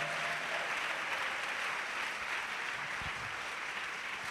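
A church congregation claps together in a steady, distant wash of applause at a French-language gospel service, fairly quiet and even throughout.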